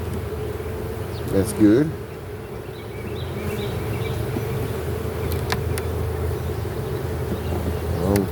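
Honeybees buzz steadily around hive splits made from swarm cells, a faint continuous drone in the open air, with a person speaking briefly near the start.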